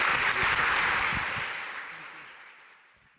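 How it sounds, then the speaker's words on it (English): Audience applause at a military spouse employment summit, a dense burst of clapping that starts loud and fades steadily away over a few seconds, with no talk over it. "Ladies and gentlemen, could we give a round of applause to Mr."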